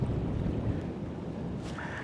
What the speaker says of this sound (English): even fighting this wind like I am today